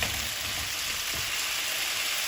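Potatoes fry in a pan of hot oil for aloo matar, giving a constant, close, loud sizzle with a faint crackle that holds evenly throughout.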